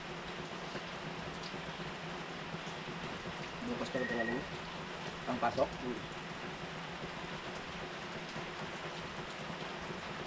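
Steady rain falls at a camping site with a constant close hiss of drops, while people talk briefly and softly beneath it.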